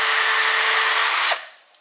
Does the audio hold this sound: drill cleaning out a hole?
yes